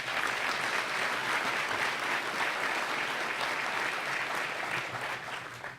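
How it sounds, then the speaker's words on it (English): Audience applause at a groundbreaking ceremony for a CoorsTek expansion facility in Benton, steady and full for several seconds before tapering slightly, with no talk over it. "Let's give the Coors family a round of applause."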